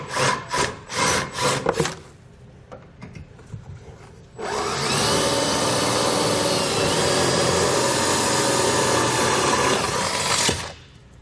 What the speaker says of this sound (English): we're going to use the holes here as a guide to drill out 1/4-inch holes